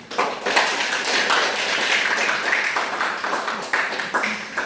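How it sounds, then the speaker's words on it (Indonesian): A classroom breaks into applause at the end of a group counselling session, a steady wash of many hands clapping for several seconds, close and fairly loud, with a voice speaking briefly over it. "Aplaus buat kita semuanya"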